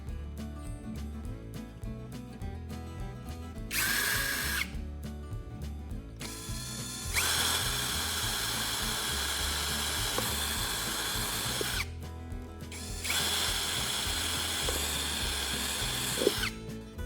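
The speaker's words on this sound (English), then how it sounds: "the lid can be drilled to install additional connector pieces" A power drill bores holes in a plastic lid. There are repeated bursts of high whining drilling that last several seconds each, with clicking and ratcheting between them, heard close up.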